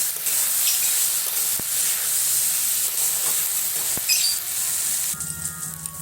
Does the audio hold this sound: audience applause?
no